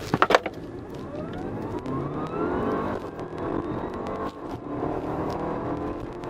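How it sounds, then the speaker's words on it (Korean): An Audi A7 55 TFSI e quattro in dynamic mode with the gear lever in sport accelerating hard from a standstill, a rising whine and engine note climbing steadily through the run, heard from inside the cabin with no talking. "차근차근 속도를 높이고 있지만 비교적 그 짧은 거리에서 빠른 시간 안에 시속 100km 주파하고 있지 않나"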